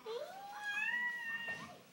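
A small child imitates a cat, giving one drawn-out, rising and falling meow close to the listener, alone without other talk.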